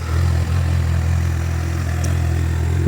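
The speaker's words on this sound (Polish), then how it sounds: "CBF-ka wygląda i pracuje naprawdę pięknie." A 2008 Honda CBF 1000 ABS motorcycle with its original exhausts idles close by, a steady, smooth low-pitched engine rumble with a faint mechanical clatter and no talk.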